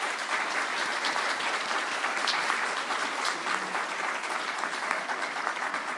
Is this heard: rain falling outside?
no